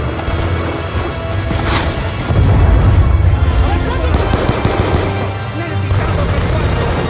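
Gunfire in Call of Duty Black Ops 2 erupts in dense, loud bursts with heavy booms and crashing impacts, layered over a rumbling battle din while voices shout orders.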